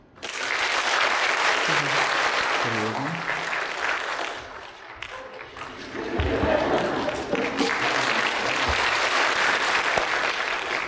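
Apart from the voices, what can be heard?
audience clapping loudly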